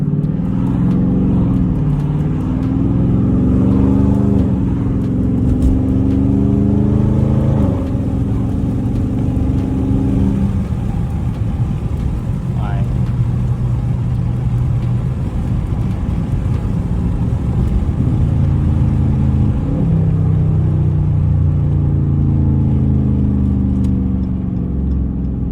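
A widebody Scat Pack car revs hard while driving, its engine note climbing and falling in repeated loud pulls over a steady rumble, heard close from inside the cabin.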